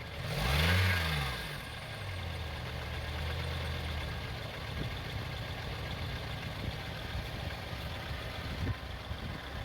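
A car engine revs up briefly as the gas pedal is pressed during oxygen sensor testing, a loud surge near the start that drops back to a steady idle rumble with faint knocks.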